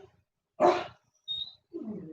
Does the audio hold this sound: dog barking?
yes